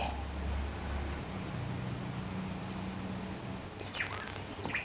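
A short burst of bright chirps from a white-rumped shama near the end of a quiet stretch with steady background noise.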